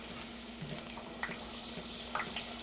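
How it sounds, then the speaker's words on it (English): Homemade potato chips frying in oil as water boils off, a steady soft sizzle and bubbling with occasional small pops, close and fairly quiet. "you can see it's still boiling off there."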